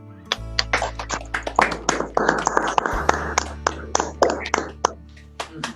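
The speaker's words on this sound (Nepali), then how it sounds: "उहाँलाई हामी ताली बजाएर स्वागत गर्नेछौँ" A fellowship gathering claps in welcome for Bishop Philip Gajmer, a few hands close up in an uneven, irregular patter that builds and fades over several seconds above a low hum.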